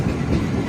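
Steady rumble and rattle of the TPJ-RMM 16849 express train rolling into Kumaramangalam railway station, heard from on board as a continuous loud, dense roar with no talk.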